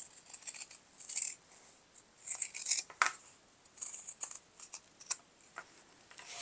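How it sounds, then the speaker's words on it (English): Scissors trim the rounded corners of a clear vinyl pouch piece, a string of short crisp snips in small bursts, close and fairly quiet, with no talking. "you're going to trim the rounded corners"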